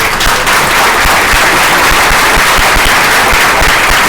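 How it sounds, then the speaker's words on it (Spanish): Loud, dense audience applause at a public event for accountants, a continuous crackling wash of many hands clapping at once, close and sustained throughout with no talk over it. "Así que vamos a darle un fuerte aplauso"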